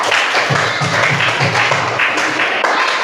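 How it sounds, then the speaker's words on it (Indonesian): Audience applause at the close of a class session, a dense steady wash of many hands clapping for about three seconds, fairly loud with a few stronger taps standing out. "Tepuk tangan untuk semua."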